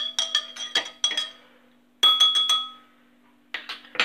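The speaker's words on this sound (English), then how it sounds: "Now give them a stir with your spoon" A spoon clinks against the inside of a cup while stirring tea, making quick bursts of bright ringing taps in three separate runs with short pauses between, close and clear against a faint hum.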